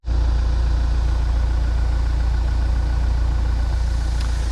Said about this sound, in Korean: 확실히 디젤 차량이기 때문에 시동이 걸렸을 때 실내로 유입되는 소음은 있는 편입니다